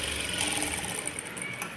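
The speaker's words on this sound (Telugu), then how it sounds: "ఒక 1/2 ఇంచ్ వరకు అయితే ఒక చిన్న స్టిచ్ అయితే వేసేస్తున్నాను." A sewing machine runs in one steady, fast continuous whir, close and loud, stitching a short half-inch seam on a fabric model top, with no talking.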